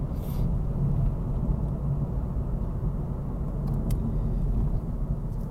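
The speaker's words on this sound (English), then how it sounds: "this car just got in front of me." A car driving in traffic, heard from inside as a steady low road rumble and engine drone with faint hiss that runs evenly throughout, with no talking.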